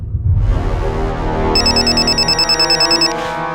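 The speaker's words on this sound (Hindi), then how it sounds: "उठा फोन उठाइए, समर का हो सकता है।" A phone ringtone plays a bright, repeating electronic melody for a couple of seconds over a low background hum, then stops.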